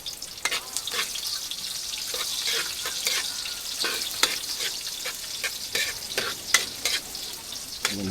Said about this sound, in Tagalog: Sinugasan natin ito sa suka